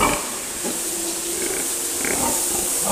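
Sows grunting in a pen on a small farm, with close grunts over a steady hissing background, short and fairly loud.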